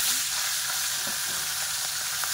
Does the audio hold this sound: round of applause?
no